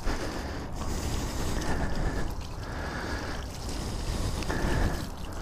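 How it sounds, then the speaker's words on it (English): A steady hiss of light water spray rushes continuously over a hot 2020 BMW F900XR motorcycle, hitting its engine and head pipes up close, with faint sizzling and no voices. "A little spray down on my Beamer. I'll hit them fancy head pipes there."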